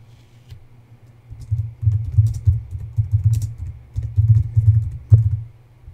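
Rapid keystrokes as a card number is typed on a computer keyboard, a close, clicky run of taps that builds after a quiet second and continues in uneven bursts to the end.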